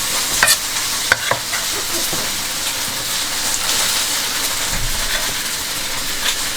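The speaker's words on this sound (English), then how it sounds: "Oh, listen to that sizzle." Chicken sizzles in hot oil in a pan for fried rice, with a steady close crackle, a few sharp pops and occasional scraping as it is stirred.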